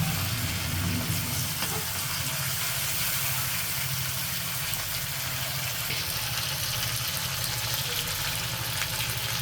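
Potatoes and curry stir-fried in a pan, a continuous loud sizzle and hiss with faint scraping underneath, steady throughout, with no talking.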